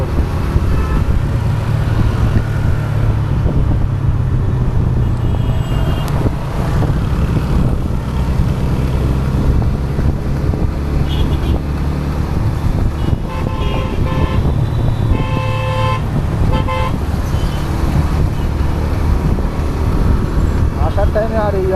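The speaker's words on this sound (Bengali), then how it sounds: "বন্ধুরা বেলগড়িয়া এক্সপ্রেসের জামটা দেখো" Stop-and-go traffic jam on Belgharia Expressway in Kolkata, with a steady roar of engines and repeated car horns honking near and far, and a voice talking over the din at times.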